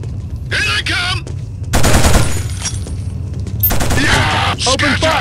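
Loud bursts of automatic gunfire and shots in the PS2 video game Killzone, coming in several dense rattling volleys with short breaks, up close, while shouted voices come through between and under the shooting.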